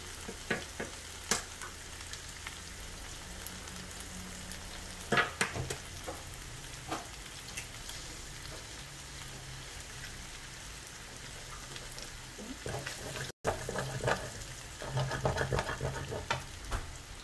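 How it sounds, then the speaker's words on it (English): Eggs fry in oil in a pan while mee goreng mamak is being cooked, giving a steady close-up crackling sizzle with a few sharper pops and clinks and no talking. "I've added in a little bit more oil to fry the eggs"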